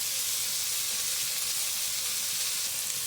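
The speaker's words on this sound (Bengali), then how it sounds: "পরিমাণ মতন হলুদ, চিনি আর মিট মশলা দিয়ে কষিয়ে নেব" Spices such as turmeric and meat masala with sugar fry in a pan for a Bengali chicken and wings kosha, giving a steady, dense sizzle with no talking.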